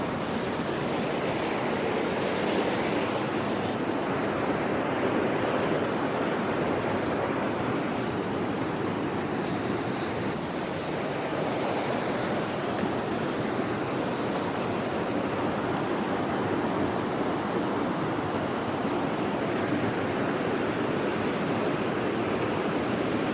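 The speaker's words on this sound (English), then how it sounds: "Well, the running water." Running water pours steadily over mossy rocks outdoors, a dense unbroken rushing wash heard close and at even volume throughout, with no voices.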